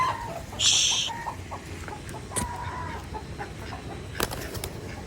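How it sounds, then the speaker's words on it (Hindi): Chickens clucking and squawking as they chase a pigeon in a mini zoo, a loud rooster-like cry near the start, then scattered clucks and sharp calls with brief wing flaps, close and without talk. "ये देखें मुर्गियाँ इसे मारने के लिए पीछे भागी हैं"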